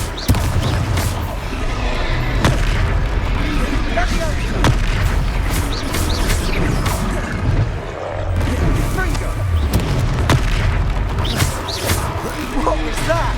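Fire spell explosions in the Hogwarts Legacy video game, loud booming blasts and crashes over dense battle noise with continuous rumbling, while characters talk over the fighting.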